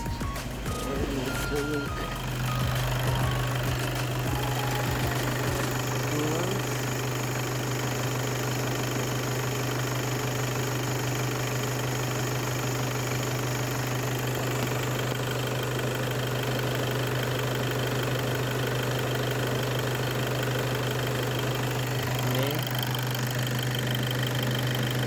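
A Volkswagen 2.0 TDI EA288 diesel engine idles steadily and close, with a constant low drone and a high tonal whine running throughout, and no talk.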